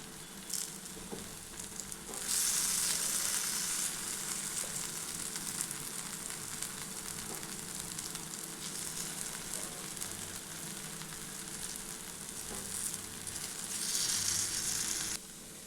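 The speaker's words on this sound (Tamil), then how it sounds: "மேலே கொஞ்சம் எண்ணெய் சேர்த்துக்கலாங்க. இந்த மாதிரி நல்லா வெந்ததை நம்ம திருப்பி விட்டுக்கலாங்க." Sweet potato slices frying in oil in a pan, a continuous close sizzle that swells louder at moments as oil is added and the slices are turned, with no talk.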